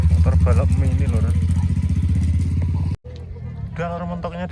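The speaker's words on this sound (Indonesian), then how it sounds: "Motor balap mini lor." Mini racing motorbike engine running steadily with a strong low droning hum and rapid pulsing, loud and close for about three seconds, then cut off and followed by quieter street ambience with voices talking.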